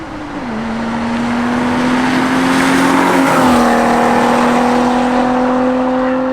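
A 1990s BMW 735i E32 sedan with a manual gearbox cruises at high speed on a road, giving a loud, steady engine hum with a sustained tone that dips slightly as it shifts, and rushing road and wind noise.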